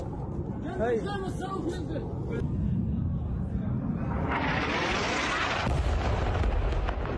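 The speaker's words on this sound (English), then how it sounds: "That, ladies and gentlemen, is what we call an explosion." An airstrike explosion plays as a loud, sustained roar with rumbling blasts and a rising wash of noise that holds for several seconds, continuous and heavy throughout.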